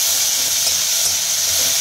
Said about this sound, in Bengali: এবার মশলাটাকে কষাবো ভালো মতন আমরা।